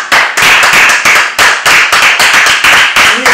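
Loud, close clapping in a fast, regular rhythm, sharp distinct claps repeating steadily like one or a few people applauding together, with no talk over it.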